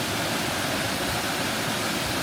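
Bucktail Falls pours in a continuous, even hiss and rush of falling water, steady and fairly soft, with no voices over it.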